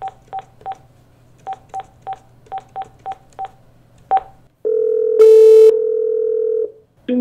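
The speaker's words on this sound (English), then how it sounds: "I'm gonna go ahead and make a call here." Conference phone dialing out: a run of about a dozen short, evenly spaced keypad tones, then a pause and a long steady ringback tone, loud and close with no talking.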